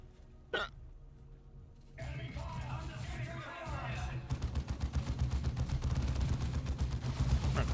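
Rapid repeated gunfire from gunners in the Dawn of War II video game, a sharp shot early then a dense stream of rattling bursts building toward the end, with game sounds and talk underneath.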